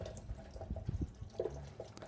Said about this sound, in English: The tracks again were then washed under some running water.